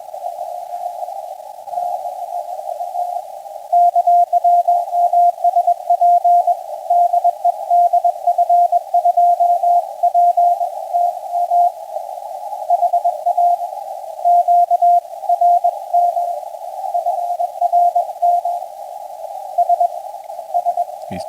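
A fading RTTY radio signal comes through as a steady, continuous data tone. Its level wavers and dips throughout while a faint hiss of noise sits underneath, and nobody speaks.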